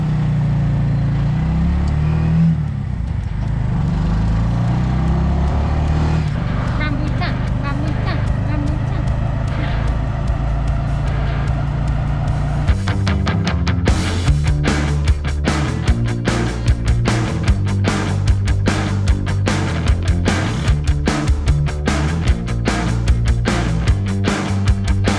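A car drives a very bumpy road on a road trip near Kurunegala, its low engine rumble steady throughout, joined later by a rhythmic pulsing beat.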